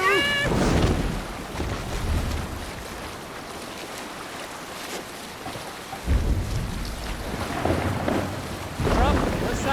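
Viking longship sailing on open sea in Assassin's Creed Valhalla: steady rush of wind and water with low rumbling swells, a few short melodic tones near the start and end, and brief distant voices.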